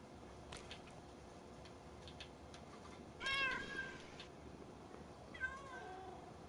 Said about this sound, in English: I hear a procession of kittens meowing